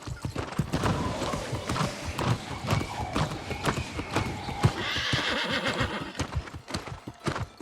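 A horse in the New World: Aeternum video game gallops with rapid, steady hoof clops and lets out a loud whinny midway, close and prominent with little else over it.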